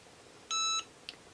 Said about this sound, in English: It'll count down the time. It'll beep when it's done